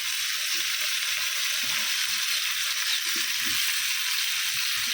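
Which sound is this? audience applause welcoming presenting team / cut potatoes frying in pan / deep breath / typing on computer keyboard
cut potatoes frying in pan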